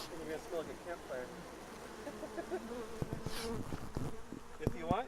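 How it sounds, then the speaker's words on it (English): Honeybees buzz continuously around the hive, near and busy, while a voice talks softly over the humming and a few clicks and knocks sound. "all these bees that you see flying around"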